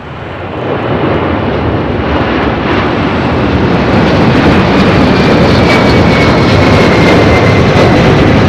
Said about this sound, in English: FedEx MD-11 now rolling down to 5 left.